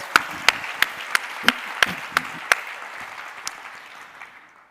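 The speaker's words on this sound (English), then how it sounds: "I think that deserves a round of applause." A few sharp, evenly spaced claps ring out from an audience, about eight distinct strikes over a broad wash of crowd applause that thins and fades toward the end.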